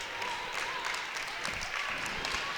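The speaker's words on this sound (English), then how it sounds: "Dana Posick comes out to applause for her performance tonight" Applause rises for a player at a girls' high school basketball game, a steady patter of clapping from the gym crowd, with a whistle-like tone threading underneath.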